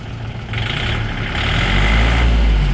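A used Kubota or Yanmar farm tractor engine, previously repaired, is near and loud, starting up with a low steady rumble and then rising in pitch and volume as it is revved over a few seconds.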